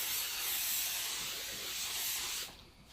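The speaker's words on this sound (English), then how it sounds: "you should be careful not to breathe too hard when you're spraying the hairspray" Hairspray sprays onto a cosplay wig in one continuous close, soft hiss lasting a couple of seconds before cutting off.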